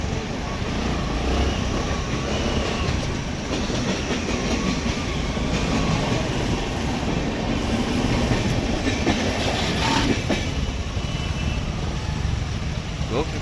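A train passing on a railway close by makes a loud, continuous rumble and rattle that lasts throughout, with some voices mixed in.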